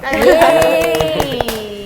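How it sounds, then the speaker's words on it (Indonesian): An audience at an Indonesian language event claps in a short burst of sharp, fairly close hand claps while a prominent voice carries over the top. "tepuk tangan dulu dong"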